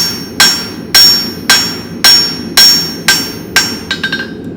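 Steady ringing hammer blows on thin steel stock over an anvil while forging J hooks, about one per second, each with a bright metallic clang and short decay, ending in a quick flurry of lighter taps.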